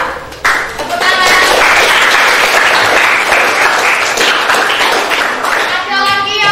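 A classroom of students claps together in a loud, even burst lasting several seconds, with a voice briefly audible at the start and end.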